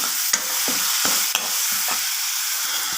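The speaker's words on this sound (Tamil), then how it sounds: "போட்டு நல்லா வதக்கி விடலாம்." Spices (salt, fennel powder, turmeric, pepper and cumin powder) are sautéed and stirred in a pan for tomato soup, giving a steady close sizzle broken by repeated rhythmic scraping stir strokes.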